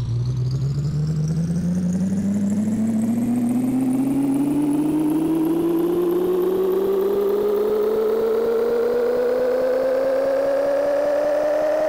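A truck engine in a video game revs steadily upward while reversing, its pitch climbing continuously over about twelve seconds, loud and alone with no talk.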